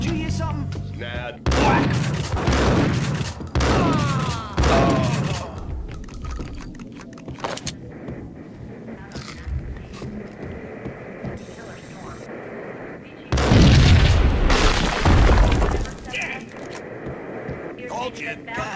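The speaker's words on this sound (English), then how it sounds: "I thought it was a bomb for sure." Explosions and bursts of gunfire in the Max Payne video game come in loud, sharp clusters near the start and again around the middle, with quieter stretches between.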